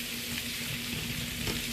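Stir-fry vegetables cook in a pan over medium heat, giving a dense, steady sizzle close by with a faint scrape of stirring and no voices.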